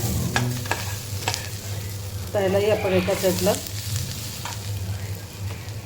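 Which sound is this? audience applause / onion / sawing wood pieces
onion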